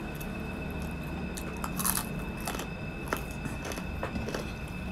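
Someone chews crispy pata, a deep-fried pork knuckle, with a run of soft, wet mastication and occasional crunchy bites, close to the ear at a steady pace, no talking over it.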